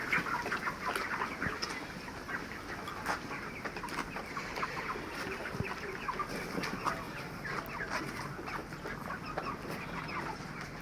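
A flock of 33-day-old broiler chickens on an open-air farm clucks continuously, with many overlapping calls at close range and a constant airy background.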